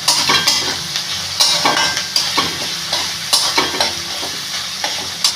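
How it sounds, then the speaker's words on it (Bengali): Chicken frying in a pan is stirred again and again, with rhythmic scraping strokes and utensil knocks over a continuous close sizzle, no voices. "আবার নেড়ে নেব"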